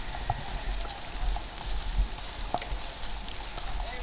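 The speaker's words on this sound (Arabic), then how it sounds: "المطر في دهب" Heavy rain falling steadily in Dahab, a dense continuous hiss of drops hitting surfaces with scattered sharper splashes, close and even throughout, with no voices.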